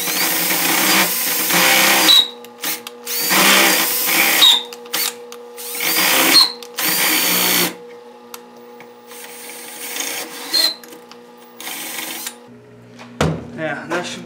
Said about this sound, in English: Switch back to our 1/2 inch bit and make the recess for that bolt head to sit down inside.